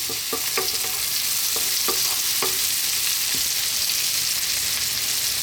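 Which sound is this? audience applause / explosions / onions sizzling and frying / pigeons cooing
onions sizzling and frying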